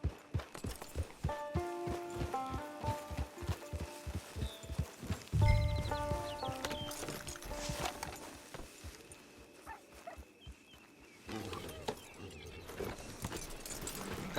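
Horse hooves clip-clop steadily in Red Dead Redemption 2, the regular beats spread through the first half and mixed with game music and mechanical clatter, no voices.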